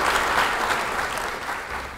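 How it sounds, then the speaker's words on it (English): Steady applause from a crowd of parents and relatives at a Spring High School event, a dense wash of clapping hands that holds at an even level throughout without pauses. "give all of these parents and relatives that are here today a huge round of applause"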